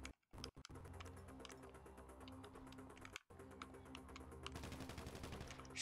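Rapid gunfire in Grand Theft Auto V, dense bursts of close, loud shots rattling almost continuously, broken by a few brief silent gaps and dense layered bangs toward the end.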